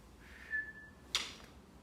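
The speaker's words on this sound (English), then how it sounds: "when I blow the whistle" A single thin, high whistle blast holds steadily for about half a second, followed by a short sharp burst of noise, in an otherwise quiet space.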